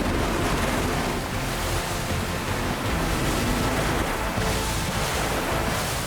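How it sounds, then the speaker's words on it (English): Atlantic ocean surf breaks along an empty shoreline in a broad, steady wash of white noise, loud and continuous, with gentle surges and wind mixed in. "the ocean pulls everything back beyond a breaking surf"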